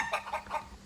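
Hen clucking used as a sound effect in a read-aloud farm story, three short rhythmic clucks close and clear, alone without talk.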